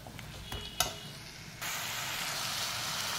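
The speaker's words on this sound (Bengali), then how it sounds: "সমস্ত কিছু মশলাগুলোকে এবার ভালো করে বাঁধাকপির সাথে মিশিয়ে একটু নাড়াচাড়া করে নেব।" Shredded cabbage with spices is stirred and fried in a pan, with a few scraping stirs and a sharp clack before the sizzle jumps up into a louder, steady frying hiss.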